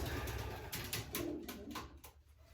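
A pigeon coos in soft, low, repeated calls close by, over a steady background rumble.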